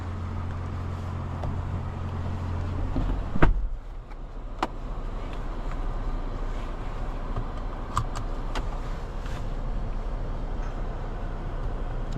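A 2027 Infiniti QX80 Sport SUV pulling away and driving, a steady low road and engine rumble with a few sharp clicks and a brief thump early on, no talk.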